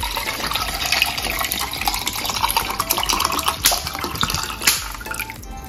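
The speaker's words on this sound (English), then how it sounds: "So we got cold water going in onto the ice." Refrigerated bottled water pours from a bottle onto ice in tumblers, making a steady bright splashing and trickling stream with small clinks near the end.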